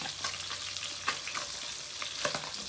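Milkfish (bangus) sizzles steadily in hot cooking oil, a loud continuous crackle with occasional sharper pops and stirring scrapes, no voices over it.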